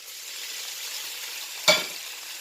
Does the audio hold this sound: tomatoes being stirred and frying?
yes